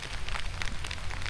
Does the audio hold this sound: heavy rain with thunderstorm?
yes